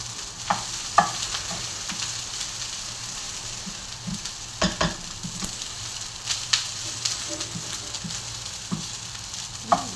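Garlic fried rice frying in olive oil gives a steady close sizzle, broken by frequent scraping taps as it is stirred in the pan.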